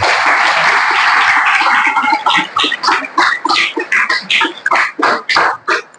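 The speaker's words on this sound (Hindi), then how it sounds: "एक बार क्यों ना प्रभु के लिए हम ताली बजाएं।" A church congregation claps together, first a dense wash of applause, then settling into steady rhythmic clapping in unison.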